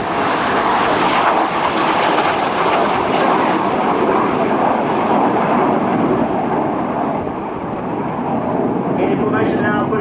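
RAF Red Arrows jets in a formation aerobatic display pulling up into a steep climb, a loud continuous roar of jet engines dominating throughout, with a commentator talking over it.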